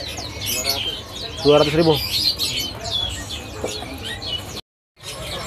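Songbirds chirp and tweet busily at a bird kiosk selling murai, kacer and cucak ijo, with overlapping calls and a louder burst of song near the middle, while people talk in the background.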